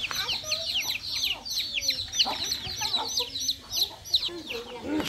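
A flock of chickens clucks and chatters busily in a rapid, continuous stream of short calls close by, with faint background voices and farmyard noise underneath.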